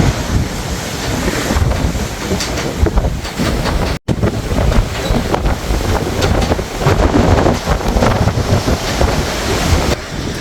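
Loud, constant wind buffeting the microphone over rough, choppy sea waves on the P&O Arcadia cruise ship, a roaring, unbroken wash of noise with a momentary dropout.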